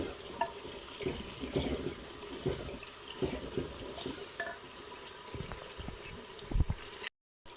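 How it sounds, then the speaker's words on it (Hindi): Water poured into a cooking pot of browned meat and soaked lentils for a Lahori murgh chane curry, a steady close splashing and trickling that runs for several seconds under faint kitchen clatter, then cuts off abruptly. "तकरीबन 2 कप पानी डालेंगे ताकि गोश्त हमारा अच्छी तरह गल जाए।"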